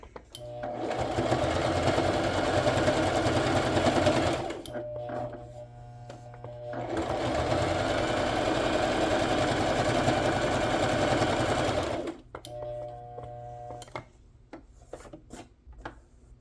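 Close, loud sewing machine stitching through a handmade journal cover, running in two long steady passes with a short quieter pause between them, then slowing into scattered clicks and taps.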